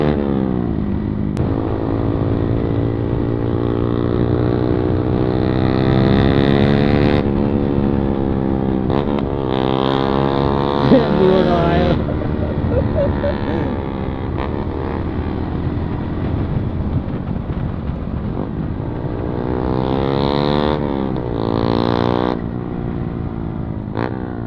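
A modified Yamaha MT-15 BS6 motorcycle with a loud aftermarket exhaust, revving and accelerating in repeated rising sweeps, loud and close with a continuous raspy drone between pulls.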